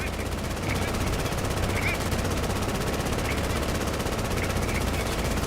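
In a video game, a plane strafes with machine gun fire, a dense continuous rattle of rapid shots over a loud engine drone, with talking mixed in.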